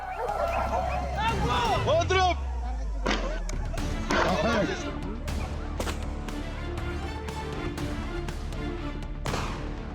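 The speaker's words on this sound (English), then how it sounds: "Barks and growls rip through the air, the thunder of paws crashing through brush." Hunting hounds bark and yip excitedly during a wild boar hunt in the forest, a burst of close, overlapping barks and whines followed by scattered sharper barks, with a voice talking over them.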